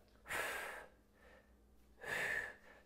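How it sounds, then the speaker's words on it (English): Two forceful breaths out during a resistance band triceps press, each a loud close hiss about half a second long, with a softer breath between them. "Breathing out as I press up."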